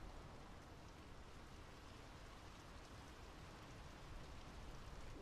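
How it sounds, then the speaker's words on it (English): Steady rain falls in the Draugen video game, a soft continuous hiss of drops on surfaces, faint and even throughout with no other sounds. "The rain's picking up."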